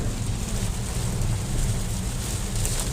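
Heavy rain pouring outdoors, a dense, steady hiss with a deep rumbling wash underneath, constant and close with no voices.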